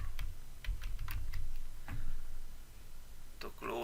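Typing on a computer keyboard while entering text in Microsoft Word 2016, a quick run of light clicky keystrokes in short bursts, close and moderately quiet, with someone talking over it.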